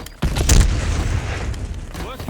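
A rocket launcher explosion in the shooter game Ricochet lands as a sudden heavy boom and rumbling blast that decays slowly, with a voice speaking alongside.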